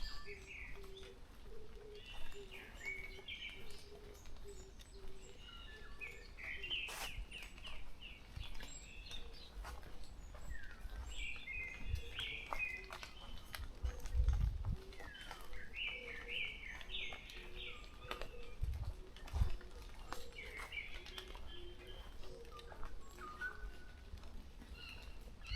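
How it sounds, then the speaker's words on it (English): Birds call and chirp repeatedly in a sunlit forest canopy, bursts of bright twittering coming and going at moderate distance over a soft outdoor background, with a few low thumps; no one speaks. "Oh, there's a noisy bird."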